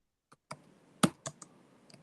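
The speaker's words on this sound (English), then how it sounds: "Carl, your mic is on and we can hear your typing" Scattered computer keyboard keystrokes caught on an open microphone in a remote commission meeting, a handful of separate, close clicks and taps with short pauses between them, one louder key hit near the middle.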